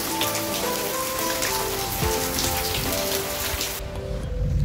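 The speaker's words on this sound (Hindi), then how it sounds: "ये देखिए कितनी बारिश हो रही है" Heavy rain falls at night outside a house, a steady dense roar of drops on surfaces that continues unbroken and loud throughout, with no voices.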